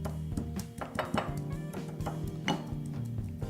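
Dull knocks and grinding thuds of fermented black beans being mashed in a stone mortar, irregular pounding strokes up close under a faint steady background hum.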